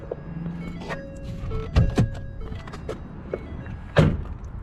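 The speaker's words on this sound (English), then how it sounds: "First thing we're gonna do, we're gonna pop the hood." Under the hood of a 2012 Ford Fusion, the release is pulled and the latch pops open: a few close, dull thunks and clunks, the loudest two together early on and another a moment later, over quiet background.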